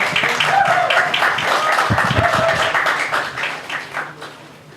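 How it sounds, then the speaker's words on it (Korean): Audience applause at a Labour Party rally greeting a deputy leader candidate, a steady crowd clapping that holds through most of the stretch and gradually thins toward the end, with some voices mixed in. "힘찬 박수로 모시겠습니다"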